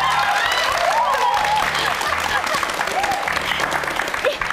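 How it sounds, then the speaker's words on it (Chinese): Studio audience applause on a Taiwanese talk show, a dense burst of clapping with some cheering, loud and close, while voices talk over it. "掌声鼓励一下。"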